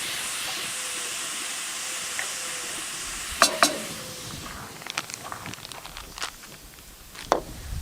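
Hamburger meat browning in a pot gives off a steady hiss and sizzle, with a couple of sharp clinks partway through and soft scattered knocks afterward.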